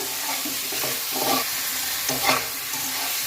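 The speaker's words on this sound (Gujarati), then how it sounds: "હવે આપણે થોડા ધાણા નાખી દઈશું અને સરસ એને મિક્સ કરી લઈએ।" Spiced baby potatoes with coriander are stirred in a hot pan, a spoon scraping in short repeated strokes over a steady sizzle of frying, close and fairly loud, with no voices.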